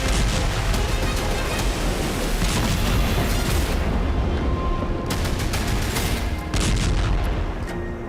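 Continuous loud rumbling and crackling blasts from wartime strikes in Ukraine, dense and chaotic, with several sharp bursts standing out over a roaring noise bed.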